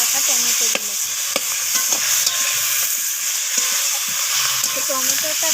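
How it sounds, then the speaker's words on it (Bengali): Chopped tomatoes with spices, potatoes and beans stirred and fried in a wok make loud continuous sizzling, with scraping clicks from the spatula throughout. "তো টমেটোটাকেও এইভাবে নাড়াচাড়া করে কষিয়ে নিচ্ছি"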